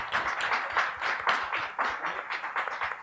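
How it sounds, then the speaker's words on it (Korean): Quiet applause from an audience at a youth forum event, a steady patter of many hands clapping, fairly faint and even, with no talk over it. "박수 부탁드리겠습니다"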